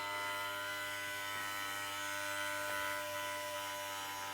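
An Ofna RC tire truer cutting down a model car tire gives off a steady electric motor whine with a buzzing hum, continuous and close with faint scraping as the blade works.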